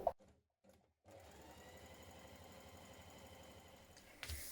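A sewing machine stay stitches around the V neckline of a front bodice piece, whirring quietly and continuously for several seconds after a couple of short starts, ending with a soft thump.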